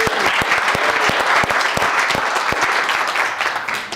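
Convention audience applauding loudly and steadily for the full stretch, a dense wash of many hands clapping at once with sharper individual claps standing out.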